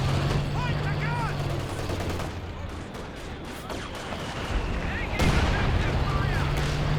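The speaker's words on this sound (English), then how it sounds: "that was a heavy mortar shell, I think" Heavy mortar shell blasts in a Company of Heroes 2 battle: a dense wall of explosive booms and rumbling gunfire, loud and continuous, with a sharper impact burst near the end amid ongoing battlefield noise.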